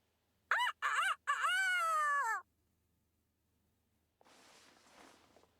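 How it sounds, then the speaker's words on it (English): A character in the video game Fire Emblem Engage does a vocal rooster-crowing impression: three loud, harmonic crowing bursts, the last drawn out, followed by a fainter breathy rustle after a short silence. "Time to break out my rooster impression."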